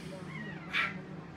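A malamute dog whines and vocalizes softly with a short, louder yelp-like cry in the middle, close by in a quiet indoor space.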